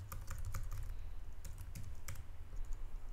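Typing on a computer keyboard to enter a file name, a steady run of quick, close key clicks with a few sharper taps, heard alone over a low background hum.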